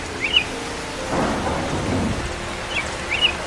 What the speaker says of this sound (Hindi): ये बारिश और तूफान कब रुकेगा?